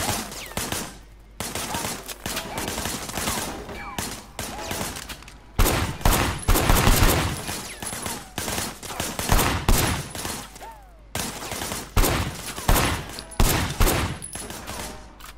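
Gunfire in the video game Sleeping Dogs: dense bursts of rapid shots and fusillades filling the whole stretch, loud and close, with brief lulls between volleys.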